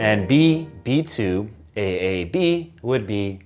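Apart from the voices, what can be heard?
None of the usual background noises is heard.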